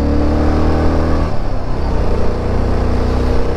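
Yezdi Adventure motorcycle engine revving with a whistling note, loud and close, a steady drone with a dip and rise partway through.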